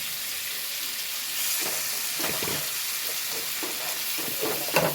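Prawns coated in masala sizzle loudly in hot coconut oil for a bitter gourd and prawn stir-fry. The hiss is dense and close, broken by a few stirring scrapes, with no talk.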